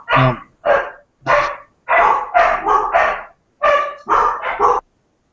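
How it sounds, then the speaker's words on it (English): A dog barks repeatedly at close range, about nine loud barks in uneven bursts, some doubled, during a hockey podcast recording, with no talk over them. "The dog"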